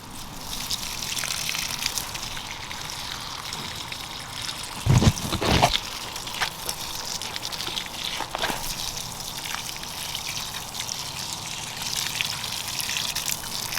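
Irrigation water in a small garden gushes and trickles steadily nearby, with a couple of louder splashing surges partway through and no talking.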